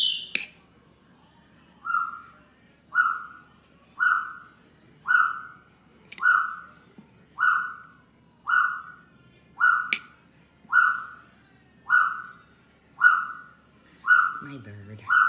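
A pet bird gives a steady series of about a dozen evenly spaced whistled chirps, moderately loud and close, with no other sound between calls.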